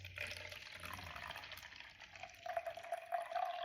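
Coffee poured out of a HyperChiller, a steady liquid stream and splash that thins to a trickle, fairly faint and continuous with no talk.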